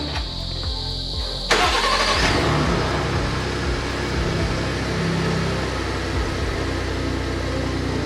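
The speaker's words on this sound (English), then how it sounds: "I'm going to start the car." Engine of a 2019 Ford F150 Raptor truck starting: a starter whir, then the engine catches with a loud burst and settles into a steady, close idle rumble, no speech.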